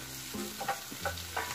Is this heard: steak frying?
yes